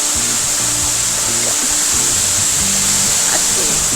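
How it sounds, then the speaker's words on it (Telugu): Mallela Theertham waterfall roars loudly and steadily, a constant rushing wash of water with faint music-like tones running low underneath. "ఇప్పుడు మనం ఈ వాటర్ ఫాల్ దగ్గరికి వెళ్తున్నాం"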